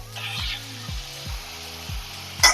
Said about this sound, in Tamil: அதை போட்டாச்சு இப்போ நல்லா வதக்கிக்கலாம்